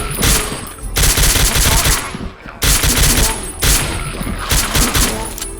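SMG fire in Ashes: Afterglow, several loud rapid bursts of automatic gunfire broken by short gaps, close and sharp throughout.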